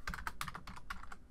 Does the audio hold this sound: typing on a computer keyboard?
yes